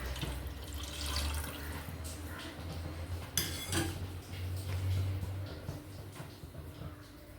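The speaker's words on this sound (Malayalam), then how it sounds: "നമുക്കിതിലേക്ക് വെള്ളം ഒഴിച്ച് കൊടുക്കാം" Water poured into a pot of beef biryani masala after wilting, a steady close splash and trickle running for several seconds with faint clinks of a vessel.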